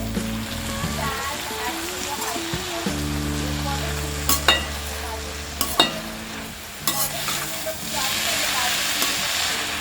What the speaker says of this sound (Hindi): अब हम इसमें डालेंगे ये चॉप्ड मेथी।